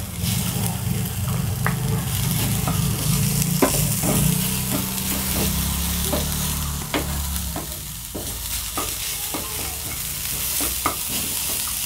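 Carrots, bird's-eye chilies and red chilies stir-fry in a hot pan, a loud, continuous close sizzle punctuated by repeated sharp scrapes and clacks of a spatula, with no voices.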